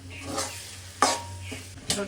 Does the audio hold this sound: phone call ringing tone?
no